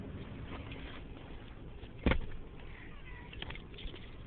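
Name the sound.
cat meowing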